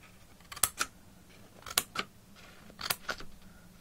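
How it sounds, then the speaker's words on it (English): Scissors snip through paper pages of a handmade junk journal, giving several short crisp cuts in small clusters, close and fairly quiet. "I get my scissors and all I do"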